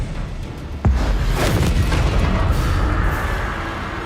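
A Confringo spell blast in Hogwarts Legacy: a sudden loud boom that cracks out and then rolls into a long, dense rumble fading slowly over several seconds.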